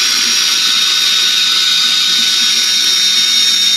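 A power drill with a buffing attachment whirs steadily inside a wood-turned piece, a loud continuous high-pitched grinding hiss with no talking.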